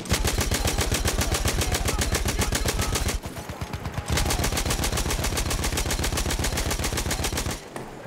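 Rapid automatic gunfire in the World War I shooter Battlefield 1, set during the Gallipoli campaign at Alçıtepe: loud, steady bursts of evenly spaced shots that break off briefly, then resume and carry on.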